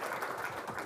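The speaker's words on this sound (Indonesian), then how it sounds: "Tepuk tangan untuk kalian jenderalnya Gus ya." Brief burst of audience applause at a national-resilience talk, a dense, steady wash of many hands clapping without pause, fairly distant and even in level.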